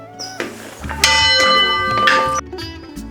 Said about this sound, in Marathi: ही भली मोठी घंटा